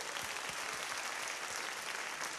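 Congregation applauding at a worship service, a brief burst of dense, steady clapping from a crowd at moderate distance.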